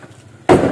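A single sharp hammer strike lands suddenly after near-silence, loud and close, with a brief ringing decay.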